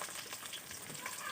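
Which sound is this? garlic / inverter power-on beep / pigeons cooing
garlic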